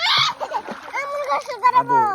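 Children splash about while learning to swim in river water, with bursts of splashing mixed among children's voices and an adult speaking close by.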